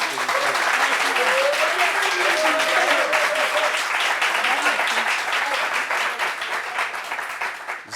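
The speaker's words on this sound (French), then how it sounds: "Applaudissements pour elle, s'il vous plaît." A studio audience claps in loud, sustained applause that carries on throughout, with voices audible underneath and the clapping tapering slightly at the end.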